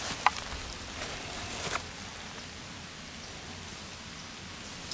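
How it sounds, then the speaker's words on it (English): Steady rain falls in an abandoned cemetery at dusk, a soft, even hiss of drops on the ground with a few louder individual taps early on and no voices. "rain has started"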